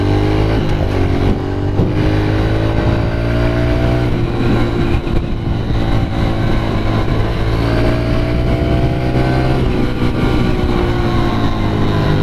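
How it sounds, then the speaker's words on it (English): A 2015 Honda CRF 110 dirt bike held at a loud, steady engine drone with rising pitch as it accelerates downhill, close to the rider and with no talk. "we'll give it one more big crack of the gas"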